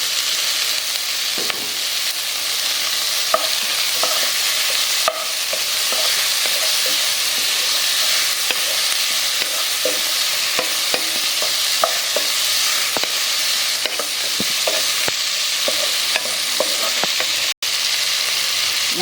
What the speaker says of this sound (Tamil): வெங்காயம் தக்காளி இந்த வாழைத்தண்டெல்லாம் நல்லா வதக்கிட்டோம்